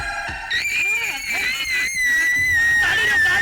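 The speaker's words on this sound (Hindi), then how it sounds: "ये उसी की चीख है" A woman lets out a sustained high-pitched scream, loud and continuous, with other voices and clatter audible beneath it early on.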